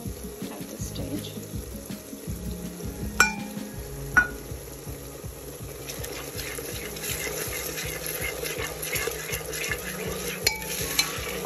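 Onions with ginger garlic paste frying in a pot for lentil soup, a continuous low sizzle under repeated rhythmic spoon stirring, with a few sharp clinks of utensil against metal and faint water-like hiss.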